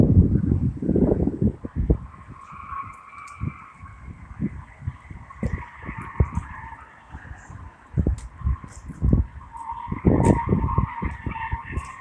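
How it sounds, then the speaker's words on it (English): A British Racing Green Rover 75 drives along, its engine hum under gusty, buffeting wind noise and uneven low thumps of road and tyre sound throughout. "I'll just leave you with a British Racing Green Rover 75."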